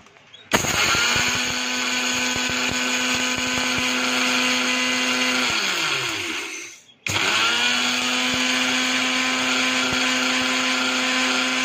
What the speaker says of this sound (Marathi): हे ना जाड आले तर परत मिक्सरमध्ये टाकून परत वाटायचे